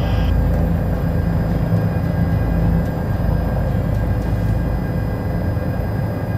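Steady, loud broadband drone of a Bell 407GXi helicopter in flight, heard from inside the cabin during a demo flight, continuous engine and rotor roar with no talk over it.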